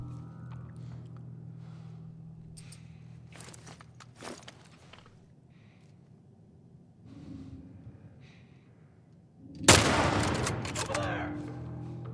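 Gunfire in The Last of Us Part 1 comes in a few sharp scattered shots early on, then one loud close blast near the end that trails off, mixed with breathing and footsteps.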